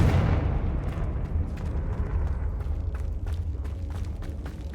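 A Confringo blasting spell explodes in Hogwarts Legacy, a loud boom at the start that rolls into a long rumbling decay, with faint crackles and pops scattered through the fading tail.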